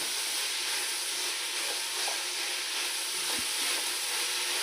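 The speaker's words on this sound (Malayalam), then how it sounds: "ഇളക്കട്ടെ." Vegetables for veg pulao frying and being stirred in a pan with pepper powder and garam masala, a steady close sizzle and hiss running throughout with a faint scrape of stirring, no talking.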